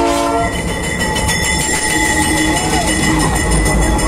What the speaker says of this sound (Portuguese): o trem está chegando aí